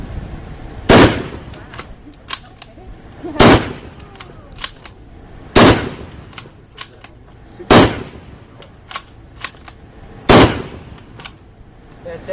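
WWII reenactors fire blank rounds from rifles in an outdoor demonstration: about five loud, sharp cracks spaced a couple of seconds apart, with fainter shots and clatter between them and occasional voices underneath.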